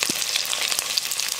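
Small onions (shallots) crackle and sizzle in hot oil in a pan, a brief steady frying hiss with a quick low knock at the start.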